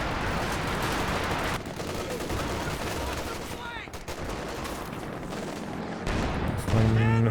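Rapid bursts of machine gun fire crackle through a Company of Heroes 2 2v2 battle, dense and continuous, mixed with other battlefield noise, with a brief tonal effect near the end.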